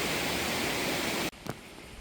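A mountain-valley stream in Seoraksan, running full after a day of rain, gives a steady broad rush of water for over a second, then cuts off abruptly, leaving faint background sound.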